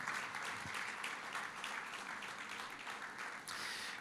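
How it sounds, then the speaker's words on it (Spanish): A church congregation claps together in loud, sustained applause of praise that fills the room, with dense overlapping claps from start to finish. "Fuerte ese aplauso de alabanza al Señor"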